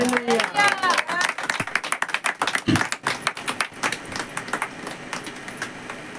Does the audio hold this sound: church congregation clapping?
yes